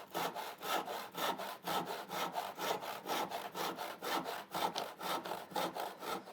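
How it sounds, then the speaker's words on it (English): A tenon saw cuts through a piece of wood in steady, rhythmic back-and-forth strokes, close and fairly loud, each stroke a rasping pulse with no voices over it. "I'm going to use my tenon saw to saw off just the edge of that"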